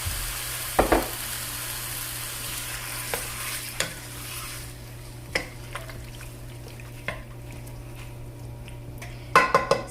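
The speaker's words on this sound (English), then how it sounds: "Okay, we're going to start adding in our shrimp, but you want to be careful because this might give you a splashback." Shrimp frying in a pan for tacos, a steady close sizzle and crackle with occasional clinks and scrapes of stirring against the pan.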